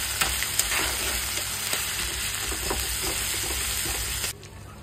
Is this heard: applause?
no